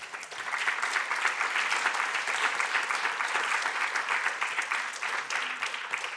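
Audience applause closing a round-table discussion on air pollution in France, a steady, even patter of many hands clapping at moderate distance, sustained for several seconds.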